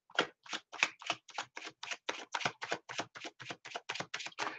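Tarot cards are shuffled in a quick, even run of about twenty crisp riffling snaps, each a short papery burst, close and faint with no voices.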